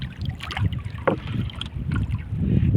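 A small fishing boat is paddled back against strong wind out at sea, with broken, uneven water and wind noise swelling and fading over nearly three seconds; no one speaks.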